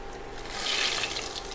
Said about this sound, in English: can you hear that sizzling? It's really sauteing up here.